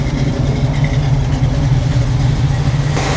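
Lamborghini Aventador engine with a deep, steady low rumble that swells into a rev, loud and close, running continuously without pause and with no voices over it.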